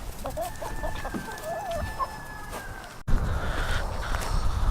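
Backyard hens and pullets cluck and call during afternoon feeding, with a rooster crowing nearby amid steady outdoor noise; the flock grows louder and busier toward the end.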